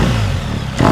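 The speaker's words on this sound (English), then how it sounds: "So I can already hear that exhaust is mellowing down a bit." A custom BMW R1300GSA motorcycle idles loudly with a rough, mellow exhaust note, then rises into a brief rev near the end, heard close with no talking.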